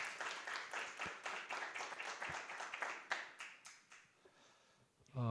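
Quiet audience clapping at a Samsung Hope Stepping Stone youth launch ceremony greets the company's social contribution executive, with individual claps audible in a loose rhythm that thins out and fades near the end.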